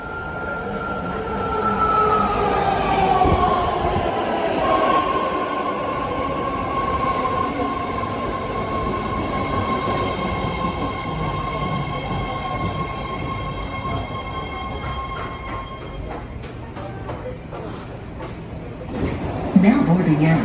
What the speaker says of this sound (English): Coming in is the Blue Line San Francisco Daly City Train.